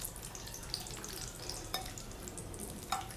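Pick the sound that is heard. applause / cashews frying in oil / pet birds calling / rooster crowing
cashews frying in oil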